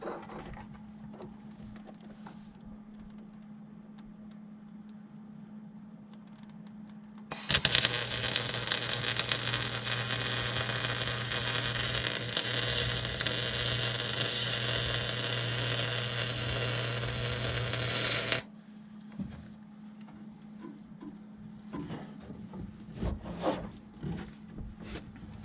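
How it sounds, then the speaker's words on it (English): An arc welder sizzles and crackles on a boat hull in a workshop, a steady harsh buzz lasting about ten seconds, framed by quieter hum and shuffling before and after. "We're just gonna weld up this side."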